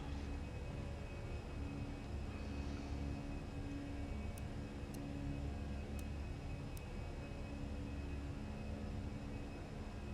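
Cabin of a Fenix Airbus A320 climbing after takeoff in Microsoft Flight Simulator, a steady broad engine roar and airflow hiss with a constant low drone and a few faint clicks, no voices.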